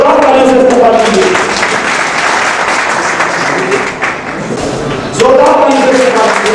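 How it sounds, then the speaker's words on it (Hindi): Hearty applause greets Master Mansoor Ahmad at a party workers' meeting in a hotel, dense clapping with a few thuds, while voices talk over the start and again near the end. "अहमद जोरदार ताली से इस्तकबाल कीजिए।"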